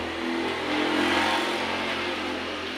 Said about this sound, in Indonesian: suara mesin kotor, kasar